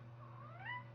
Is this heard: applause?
no